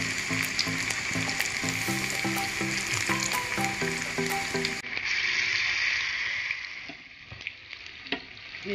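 Chicken vadas fry in hot oil with a steady close sizzle and crackle, rhythmic utensil taps sounding at first before the frying carries on alone.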